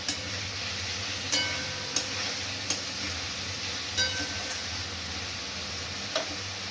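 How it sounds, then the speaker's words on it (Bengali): Masala spice paste with ground tomato and some curry mixed in, frying in a pan over lowered gas: a steady sizzle throughout, with occasional faint clicks of stirring. "আমি গ্যাসটা কমিয়ে দিলাম, দিয়ে মশলাটা ভাজা হোক"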